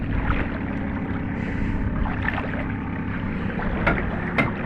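A wooden boat with no engine is paddled through shallow water, giving a steady low rumble with soft splashes and a few sharp knocks near the end, without talk.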